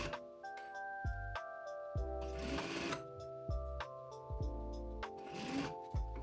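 Sewing machine stitching a quilt coat in short mechanical bursts, each a fast rhythmic run of needle strokes with brief pauses and handling clicks between, close and steady.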